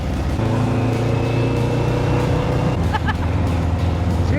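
A sand rail's engine pulls hard in second gear, a loud, steady close-up drone that stays strong throughout the run, with a brief whoop from someone partway through.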